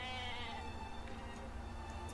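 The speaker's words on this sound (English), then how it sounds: "Oh, it's a goat." A goat bleats in the video game Atelier Ryza, a steady game-audio call that runs for about two seconds over a layer of background music.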